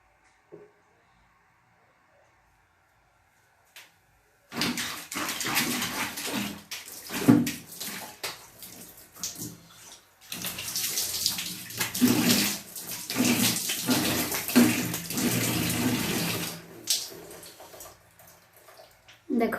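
Running water from a tap as a face is washed after a scrub, quiet at first, then a steady close splash and rush that briefly pauses before continuing to the end.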